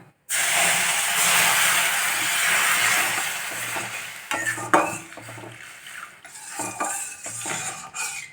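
Roasted semolina simmering in milk in a pan is stirred with a spoon, first as a steady hissing bubble, then as scattered scrapes and clinks against the metal, with no voices.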